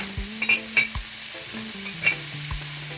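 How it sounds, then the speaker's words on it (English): Coconut oil sizzles quietly in a pan while chicken fried rice is cooked, with soft scraping stirs and a few light clicks of a utensil against the pan, and no talking. "I'm gonna add a spoonful of coconut oil to it to give it some nice flavor"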